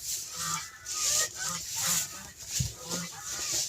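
Toulouse geese at a breeding pen honk and call repeatedly nearby, with short overlapping cries and softer clucking sounds.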